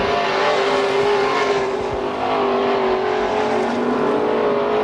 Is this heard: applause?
no